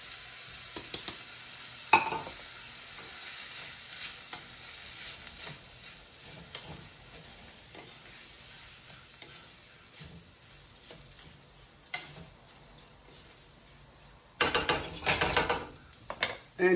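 Rice grains coated in oil for pilaf sizzle softly in a pot while a spoon stirs, giving a low, continuous hiss broken by occasional scrapes and knocks, with a louder burst of stirring near the end.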